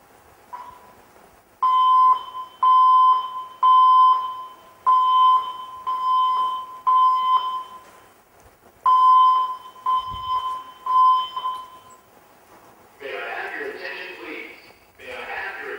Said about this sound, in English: General alarm.